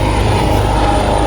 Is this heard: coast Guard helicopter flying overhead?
yes